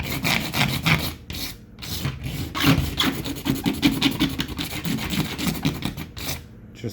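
Rough, steady scrubbing over an orange-peel textured wall patch, a continuous rasping rub with short pauses between strokes, close and loud with no talking.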